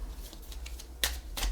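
Gypsy (Cigano) deck cards being shuffled during a card reading: faint soft rustling, then two brief, crisp riffles close to the microphone near the end.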